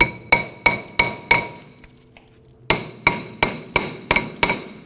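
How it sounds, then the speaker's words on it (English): Repeated sharp metallic hammer blows against the rusted rear brake drum of a 2008-2011 Ford Focus, about a dozen close, loud strikes in a steady rhythm with a short pause partway through. "Sometimes using a hammer to strike around here will loosen up any rust in there"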